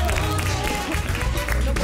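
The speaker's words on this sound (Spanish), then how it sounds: "Con este aplauso recibimos a Javiera en No Culpes a la Noche" A TV studio audience applauds to welcome a guest on the Chilean show No Culpes a la Noche, dense continuous clapping that stays fairly loud across the short span with music underneath.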